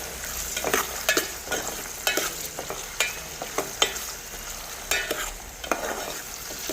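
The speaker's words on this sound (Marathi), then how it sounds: "आता कांदा लसणासोबत हे टोमॅटोसुद्धा छान परतून घ्यायचं आहे." Onion, garlic and chopped tomato sautéing in a pan, with a steady soft sizzle and repeated scraping stirs of a spoon at close range, no voices.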